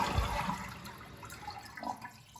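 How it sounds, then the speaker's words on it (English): A household toilet being flushed with its water supply valve shut off, draining the bowl: a close, steady rush of water with gurgling swells, alone without talk. "go ahead and flush the toilet to let all that water out of the bowl"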